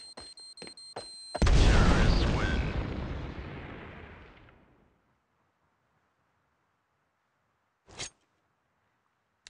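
A bomb explosion in the mobile shooter Standoff 2: a few clicks, then a huge booming blast that rumbles and fades over about three seconds, followed by silence and one short sharp sound.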